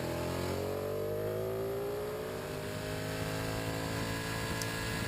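Motorcycle engine screaming at high revs on a race track during a track day, close and loud, with steady rising harmonic whine as the bike accelerates continuously after braking.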